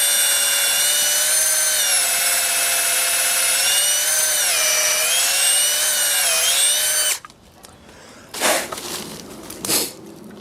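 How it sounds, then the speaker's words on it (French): A power drill bores holes about 3-4 cm deep into birch tree trunks to tap sap, whining loud and close for about seven seconds, then stopping, followed by a couple of brief rubbing scrapes. "Faire des trous d'à peu près 3-4 cm de profondeur après l'écorce."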